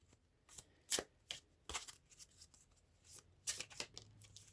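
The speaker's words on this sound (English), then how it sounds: "And I did shuffle the deck" A deck of tarot cards being shuffled by hand: quiet, close riffling and slapping bursts in an irregular rhythm, a few louder snaps among softer flicks, with no voices.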